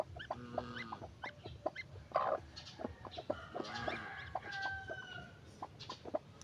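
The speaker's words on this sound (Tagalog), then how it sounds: "Guys, di pala manok. Gansa pala." Geese on a small farm honk and cackle in repeated short, nasal bursts, fairly close and overlapping one another over a low background murmur, with no one talking.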